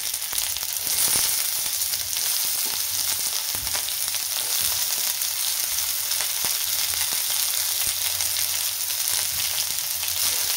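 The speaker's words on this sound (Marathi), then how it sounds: "लसूण आणि आलं आहे ते थोडंसं भाजून घेऊया" Garlic, ginger and onion roasting in a hot pan, a continuous soft sizzle with scattered light crackles and occasional stirring clicks, close up and with no talking.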